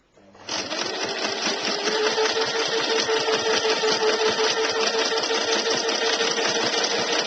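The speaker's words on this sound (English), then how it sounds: "So you're just going to do a stop stitch" A sewing machine stitching a maxi dress starts up and then runs at a steady, fast, humming rattle, close and continuous, with no voice heard.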